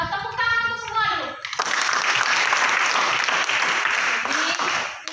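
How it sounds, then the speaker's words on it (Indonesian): After a voice speaks briefly, a classroom of children breaks into loud, close applause, a dense burst of clapping that continues for several seconds before tapering off. "Jadi tepuk tangan untuk semua dulu."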